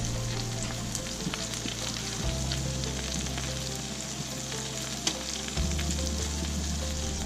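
Snapper fillet sizzling and frying steadily in a pan, a dense continuous crackle close by with a low background hum, no talking.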